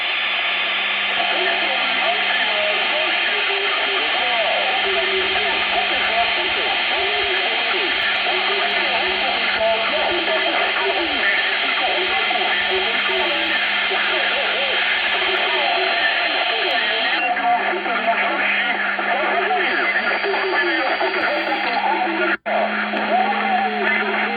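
An amateur radio transmission comes in at a winter field station near Żagań. A weak, distorted voice sits under dense, continuous static hiss for the whole stretch, with a brief dropout near the end.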